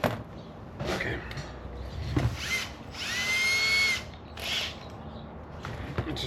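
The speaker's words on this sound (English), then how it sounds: "We have to do a little bit more drilling." Power drill boring a hole during ignition repair work on a Nissan 240SX, short bursts of whining drilling with a rising pitch, close and moderately loud, separated by handling noises and brief talk.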